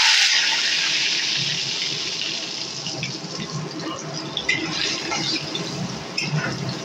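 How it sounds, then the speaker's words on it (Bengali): Potato pieces fry in hot oil in a pan for a Bengali jackfruit dish, giving a loud, steady, close sizzling hiss that continues alone with no voices. "এদিকে তেলটা আমার গরম হয়ে গেছে, আমি এখন এর মধ্যে আলুগুলোকে ভেজে নেব।"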